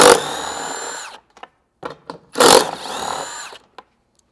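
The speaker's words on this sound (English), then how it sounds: "You want to use a 16mm socket to remove these two bolts underneath your license plate." A power tool fitted with a 16mm socket runs in short whirring bursts while removing bolts beneath a Jeep JT's rear license plate, with brief pauses between runs.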